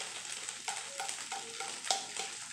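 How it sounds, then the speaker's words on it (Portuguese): Tomato, bell pepper and onion are stirred in a sizzling pan, a soft continuous fry with several quiet scraping strokes and one sharper clink, fairly faint and without speech. "E aí eu vou dar aquela mexida"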